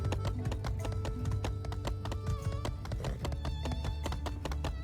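Rapid, evenly spaced clip-clop of a horse's hooves in the farming game My Time at Sandrock, steady and close over a faint game music bed, with no talking.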